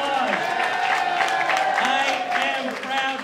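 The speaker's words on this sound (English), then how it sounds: "Give Adonis a round of applause" Crowd applause and cheering at a mayoral campaign rally in a labor union hall, moderate clapping mixed with shouts and a voice speaking over it.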